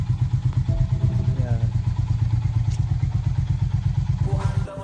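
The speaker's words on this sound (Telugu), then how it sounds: "అయితే స్టార్ట్ అయిపోయింది మన బైక్" A Honda CB 350RS motorcycle engine runs steadily after being started following a month parked through heavy rain, a loud, even low-pitched thumping idle close by with a brief rev near the end.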